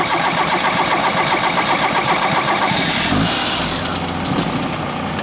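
A car engine fitted with a CNG gas kit runs continuously after starting, a steady mid-range idle with uneven, slightly rough pulsing that dips toward the end as it begins to stall.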